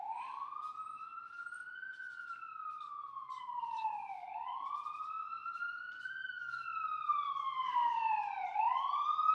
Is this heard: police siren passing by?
yes